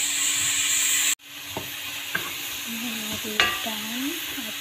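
Onion drops into hot oil for a vegetarian Malaysian curry. A sharp hiss bursts at first contact, then a steady sizzle continues, broken by a few light clinks and scrapes of stirring.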